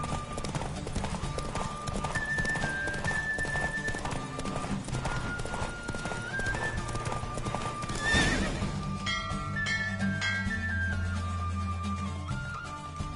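A horse gallops in a race in the Witcher 3 video game, rapid rhythmic hoofbeats pounding continuously and close, with a whinny and some game music layered in.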